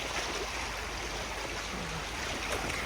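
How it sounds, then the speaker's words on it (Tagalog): Strong current of the L'Allondon river rushing past, a dense, steady broadband roar of flowing water heard up close, with no talking over it. "Ang lakas ng agos guys."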